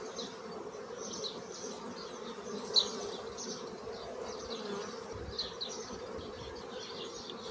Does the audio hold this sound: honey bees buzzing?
yes